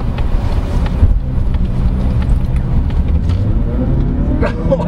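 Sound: car engine while driving

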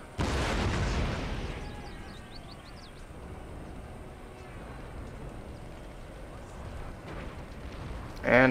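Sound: cannon fire hitting a wall in Empire Total War video game

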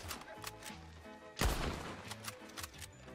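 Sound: gunshots in the video game Red Dead

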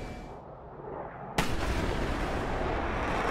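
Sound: AGM-65D Maverick missile launch from F-16, DCS video game

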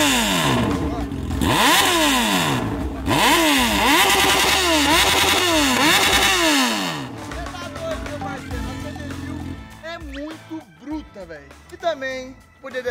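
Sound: Honda CB1000 motorcycle engine starting and revving

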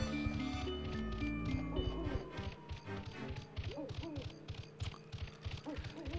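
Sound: owl hooting in Donkey Kong 64 video game

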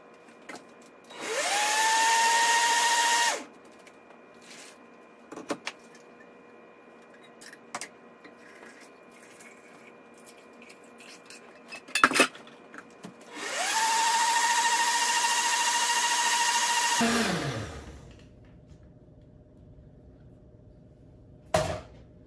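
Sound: blender pureeing tomato soup

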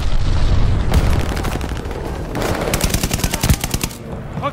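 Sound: gunfire in video game Call of Duty Vanguard

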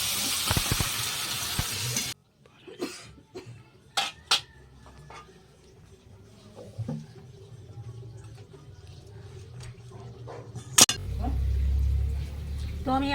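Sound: water added to frying spice paste for fish curry, sizzling

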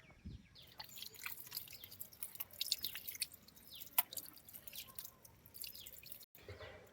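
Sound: watering newly planted brinjal seedlings in terrace garden

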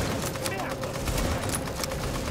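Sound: gunfire in the video game The Division

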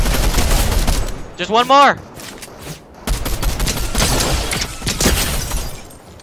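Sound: gunfire in Fortnite, video game

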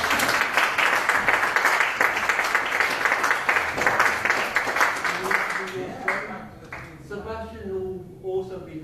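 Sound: audience applause

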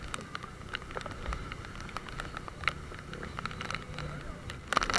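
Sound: heavy rain

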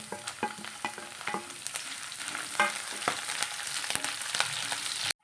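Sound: curry leaves, ginger and green chillies frying in oil

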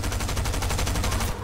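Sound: gunfire in a video game

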